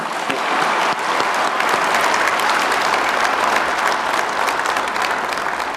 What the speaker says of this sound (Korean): 우리 박수 한번 부탁드리겠습니다